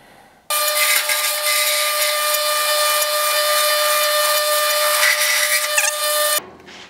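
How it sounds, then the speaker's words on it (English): High-pitched, steady whine of a power tool cutting apart a metal can, running continuously for about six seconds with abrupt start and stop, loud and close with no talking. "We're gonna cut a can and weld it up."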